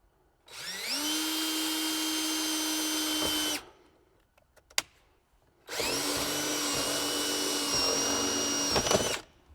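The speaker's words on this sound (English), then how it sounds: "now we just need to drill a hole in this little piece" A power drill whirs in two sustained bursts of about three seconds each, drilling a hole in a small part while fitting off-road lights to an 80-series Land Cruiser, separated by a short pause with a few clicks, loud and close.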